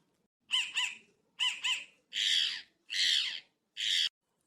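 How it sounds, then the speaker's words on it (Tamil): Crow calls ring out near a rice field: a quick double caw, another double, then three longer, harsher single caws. Each is loud and distinct, with quiet gaps between them and no speech. "அக்கா காக்கா வந்து இங்க கத்திட்டே கிடக்குது"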